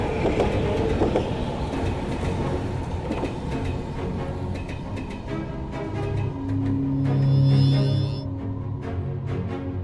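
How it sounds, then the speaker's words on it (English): Passenger train running on a new rail line, a loud close rumble of wheels with steady clickety-clack and a rising metallic tonal whine near the end. "This cutting-edge train line connects a newly designed hub directly with the Tesla Science Museum."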